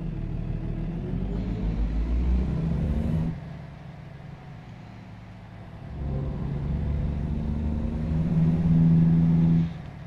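An engine rumbles steadily as a truck drives in American Truck Simulator, easing off for a stretch mid-way and then building again with rising drone, no talking.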